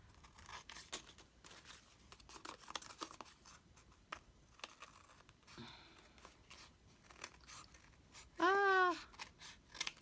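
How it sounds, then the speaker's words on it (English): Scissors cut tags from repurposed manila folders, making a series of quiet, crisp paper snips and rustles. A brief tonal squeak stands out near the end. "So what if I'm going to cut this apart, cut this down now."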